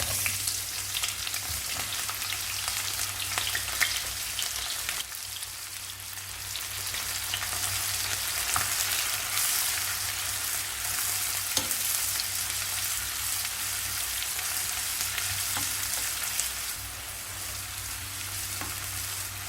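Onion, a piece of cinnamon, four cardamom pods and four or five cloves sizzle steadily in ghee for Arabian chicken mandi biryani, a constant close-up crackle with occasional scraping stirs and no talking.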